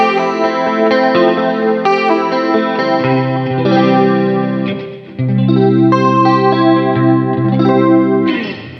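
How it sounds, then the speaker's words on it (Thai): Clean electric guitar tone through a Skysonic EG10 Pro amp, with chorus and a light reverb, strums ringing chords in a steady, full-sounding progression with no voices. "เป็นเสียงคีนใส่รีเวิร์บบางๆ แล้วก็ใส่คอรัสด้วย"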